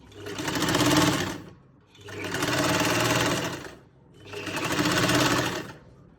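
A sewing machine runs in three steady bursts with short pauses between them while stitching the waistband of a salwar, loud and close with no voices.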